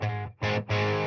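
Metropoulos Metro-Plex guitar amp played with a dirty, chunky, breaking-up rhythm tone, strongly mid-forward: three loud distorted chord strums, two longer ones around a short stab, each cut off abruptly, with no talk.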